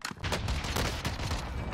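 Rapid automatic gunfire in the video game Warzone crackles in a dense, fast burst of shots after a brief pause, loud and close for nearly two seconds.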